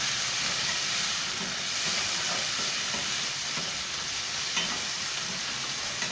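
Garlic and carrots fry in oil with a dense, steady sizzling hiss that carries on unbroken at an even loudness, broken only by occasional faint stirring clinks.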